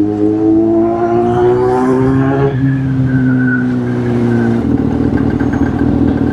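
A vehicle engine drones loudly on a road, its pitch climbing as it revs up and then dropping and shifting, with a continuous close, strong rumble and no talk.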